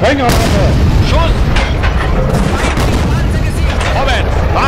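Tank main gun firing high-explosive shells in the WWII tank game Steel Fury: Kharkov 1942, a Panzerkampfwagen in battle; loud repeated booms over constant rumbling battle noise, with shouted commands in between.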